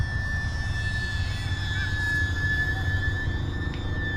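A small E-flite UMX P-47 BL electric RC warbird model airplane in flight, giving a steady high-pitched motor whine with a faint shifting tone as it turns, moderately loud over an outdoor background, no speech.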